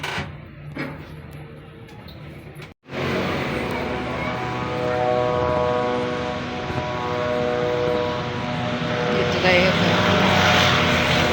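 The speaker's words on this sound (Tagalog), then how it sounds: "Ay, ingay ng ano, drone. Lakas ng drone." A loud drone flies close by after a lift ride on the way to a supermarket, giving a steady droning buzz with harmonic whine that holds for several seconds after a brief gap, grows a little louder near the end, with no talk.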